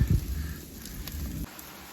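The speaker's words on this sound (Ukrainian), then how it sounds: "також дощ іде" Steady patter of rain falling on a surface, beside a grill in a gazebo where meat and potatoes are cooking, with a low thud at the start and the hiss continuing faintly to the end.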